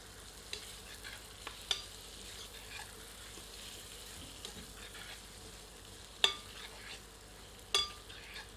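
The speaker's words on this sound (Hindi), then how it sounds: "तत्पश्चात इसमें मैरिनेटेड चिकन सम्मिलित करते हैं। सबको अच्छी तरह मिलाते हैं।" Marinated chicken stirred and fried in a pan for a restaurant-style curry, with a faint steady sizzle under occasional sharp clinks and scrapes of a spoon against the pan, fairly quiet.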